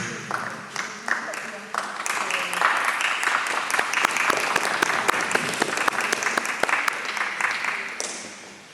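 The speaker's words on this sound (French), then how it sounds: "Vous applaudissez pour une boîte de chocolat?" An audience at a museum event applauds for several seconds, clapping swelling to a steady peak and then fading, with a voice speaking briefly over it.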